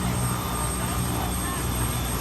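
A sheriff's office helicopter runs steadily at a junior deputy camp, a constant loud engine and rotor drone filling the whole clip.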